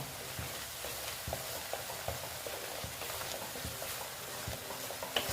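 Green chilli, Kashmiri red chilli powder and spices sautéing in a pan for a vegetarian paneer curry, giving a soft, steady sizzle with faint stirring scrapes and small ticks throughout.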